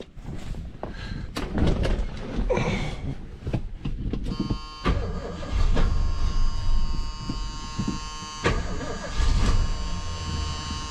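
The engine of a 1977 Ford LTD station wagon rescued from a junkyard runs with a buzzing, steady idle that starts partway through, amid clunks, knocks and handling noises nearby.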